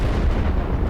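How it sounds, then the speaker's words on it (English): Rocket explosion in the strategy game Stronghold, a dense, loud, rumbling blast filling the whole second with heavy low-end roar. "I heard another rocket."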